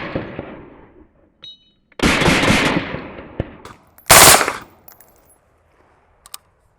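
A select-fire 5.56 rifle fitted with a SureFire SOCOM suppressor fires two quick, close, loud bursts of automatic fire, separated by a short pause, with faint clicks and quiet gaps around them.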